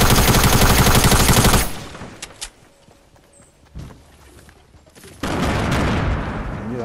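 Sustained loud automatic gunfire in a video game cuts off, followed by a few scattered single shots, and then another dense burst of firing.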